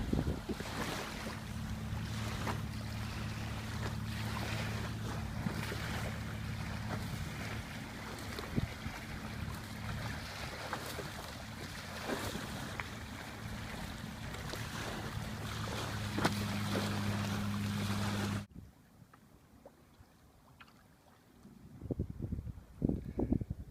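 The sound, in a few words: fishing boat passing on the Indian River Lagoon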